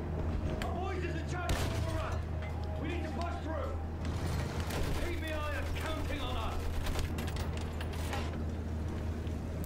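Tank in Battlefield 1 rumbling forward with a steady low engine drone while gunfire and explosions crack around it, scattered shots and bursts throughout, with voices talking over the battle.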